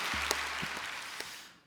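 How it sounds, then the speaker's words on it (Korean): A diffuse wash of congregational applause in a church service, soft and distant over a low steady hum, fading away at the end. "더 큰 박수로 하나님 앞에 영광 돌려드립니다"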